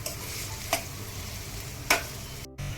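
Food for Kathiyawadi eggplant bharta sautéing in a pan until brownish, a soft steady sizzle with two sharp utensil clicks and a short drop to near silence near the end.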